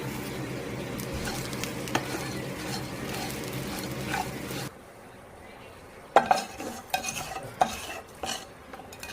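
Green chilies frying in a little oil in a pan: steady sizzling with stirring for several seconds, then quieter spells broken by sharp clinks and scrapes of a utensil against the pan.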